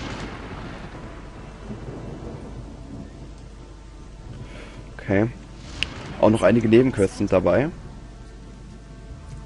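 Rain and rolling thunder from a thunderstorm in the Gothic 2 video game, a low rumble under steady rain while someone talks over it.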